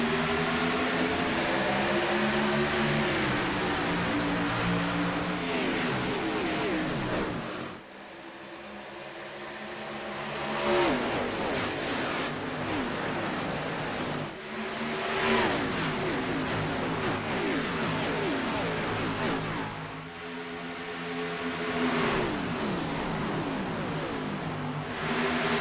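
A pack of race cars roars around Texas in iRacing, with engines droning and rising as the field passes in close waves, one loud surge after another.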